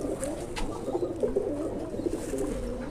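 A loft pigeon, recently weakened by hot weather and now recovering, coos steadily and close by in a continuous, throaty, rolling murmur with no talk over it.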